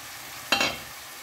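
Curry leaves dropped into a hot oiled pan of mutton peratel give a sudden short sizzling burst over a faint steady frying hiss, close and without any talking.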